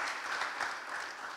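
A church congregation at a Sunday Hindi service in Kinoya Assembly bursts into hearty applause, a dense, steady clapping from many hands that fills the short moment evenly without pause.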